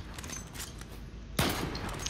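A single sharp sniper rifle shot cracks out in the Zula online shooter, a sudden loud burst after quiet game ambience, followed by a short decaying tail.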